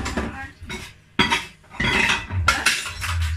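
Dishes, pots and cutlery clink and clatter while being washed up in a home kitchen, in several loud bursts separated by short pauses, close to the microphone, with no voices.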